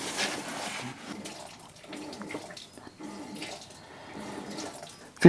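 Fuel flowing from the disconnected gas tank line of a Ford Mustang, a soft uneven trickling and splashing in irregular spurts, close and fairly quiet, ending with a brief louder clunk.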